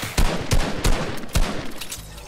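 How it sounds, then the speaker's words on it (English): Sharp gunshots ring out in a video game, four loud, punchy cracks at uneven intervals, each trailing into a brief echo, with no voices present. The shots fit a sniper rifle. "Where'd that sniper shot come from?"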